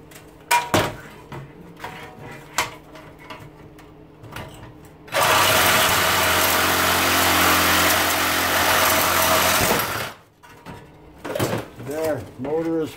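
Arc welder motor shaft being cut off, a loud steady broadband grinding or cutting roar lasting about five seconds mid-clip, with clanks and voices before and after.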